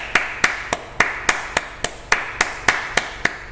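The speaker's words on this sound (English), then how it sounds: "Now clap your hands" A single pair of hands claps alone in a steady, even rhythm, about a dozen sharp, close claps spaced roughly a third of a second apart, with no talking.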